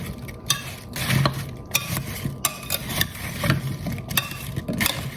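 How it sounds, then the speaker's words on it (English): Chopped apples are stirred and folded through a mayonnaise and lemon juice dressing in a bowl for a Waldorf salad, making repeated wet squelches and spoon scrapes in a steady rhythm close by, with no voices. "we're going to mix this well to coat our apples"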